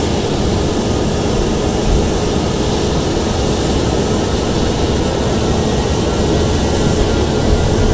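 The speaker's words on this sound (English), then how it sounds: "before I spool up the engine" A Boeing 767 jet engine in Flight Simulator X roars loud and steady, a dense continuous whine and rumble holding through the whole stretch with no voices over it.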